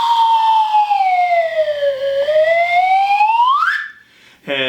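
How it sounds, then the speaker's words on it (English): A wooden slide whistle plays a long, loud, continuous tone that glides slowly downward and then sweeps back up to a high peak. A short squeaky flutter comes after the main glide. "This first one I want to show you is a wooden slide whistle as well."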